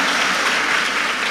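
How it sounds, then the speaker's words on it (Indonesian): Continuous audience clapping in a large hall at a pesantren in Ponorogo, East Java, a thick uniform applause with no break. "Tepuk tangan buat Raka"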